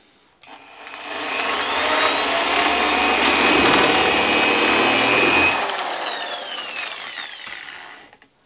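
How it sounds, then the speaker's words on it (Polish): Power drill boring into a kitchen corner wall-cabinet board, a steady loud whine lasting about five seconds before tapering off, with no talk over it. "wiercimy, mam nadzieję, że trafię i się nie przebije gdzieś na wylot z płytą"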